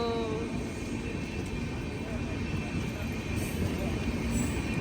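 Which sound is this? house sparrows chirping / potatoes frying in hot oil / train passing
train passing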